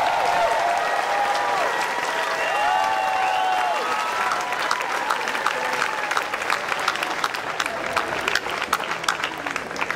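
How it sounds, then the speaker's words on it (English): A large graduation audience at the University of Oregon's 2010 summer ceremony applauds, a dense, sustained wash of clapping from many hands with faint tonal sounds threaded through, fairly loud and continuous for the whole stretch. "So let's have a round of applause for them and for their accomplishments."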